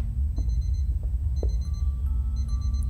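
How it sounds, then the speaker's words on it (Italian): An electronic alarm in the horror game Obsideo beeps in three short bursts of rapid high tones, over a loud low rumbling background with a few knocks. "L'allarme."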